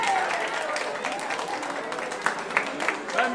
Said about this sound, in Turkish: Bir alkış alabilir miyiz anneler babalardan?